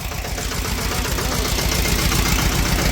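A tractor engine idles with a steady, low, rumbling chug that holds constant throughout, close by.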